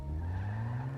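A test vehicle car in GTA Online skids with a loud, steady tire squeal over a low engine drone, heard alone for about a second.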